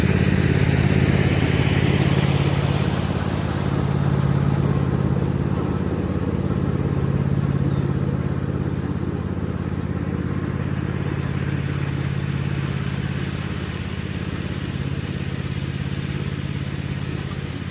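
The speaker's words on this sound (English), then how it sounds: "Little Red Tractor's performing really well" The small red tractor's engine runs steadily throughout a test drive, a loud, close, continuous low chugging drone that eases slightly in level toward the end.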